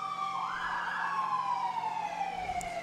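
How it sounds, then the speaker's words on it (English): Emergency vehicle siren at a Santa Claus parade in Owen Sound, a steady wailing tone that sweeps up and slowly falls, fairly close and continuous over a low street rumble with no talk. "We got a lot of sirens this year."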